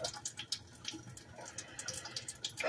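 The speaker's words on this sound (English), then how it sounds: "That's just more of water" Running water, a light, uneven splash and trickle with small bursts, heard faint and close throughout.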